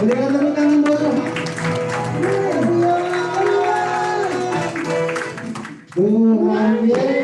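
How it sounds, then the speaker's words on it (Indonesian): Congregation clapping during an Indonesian Sunday church service, rhythmic handclaps running under loud singing and music, with a brief dip before the music and clapping swell again. "Berikan tepuk tangan buat Tuhan."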